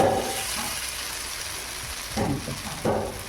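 Taro stolons fry in a pan for a shrimp dish until nearly done. There is a constant close sizzle, with two brief louder bursts from stirring near the end.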